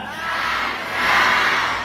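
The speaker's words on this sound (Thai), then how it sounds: "ตะโกนคำว่าสร้างชาติ" A large crowd at a Thai nation-building institute ceremony shouts together in one loud, sustained burst that swells near the end, with no separate voices standing out.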